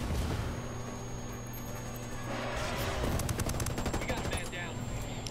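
Gunfire in the video game Ghost Recon Wildlands: a dense, rapid burst of automatic shots over a steady hum of game ambience, with quieter scattered shots before it and voices talking faintly underneath.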